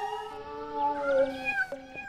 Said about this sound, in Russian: Они будут мяукать, мяукать. Пока не задолбают вас.